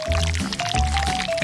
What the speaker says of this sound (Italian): E qui versiamo la gelatina